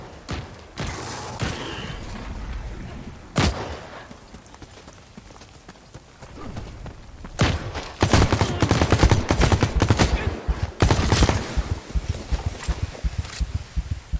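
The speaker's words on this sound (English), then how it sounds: "Now they're shooting at somebody with a phasic over here." A phasic weapon fires in the sci-fi shooter The Cycle: Frontier, with scattered sharp shots early on, then a long rapid run of rhythmic bursts, fairly loud and close.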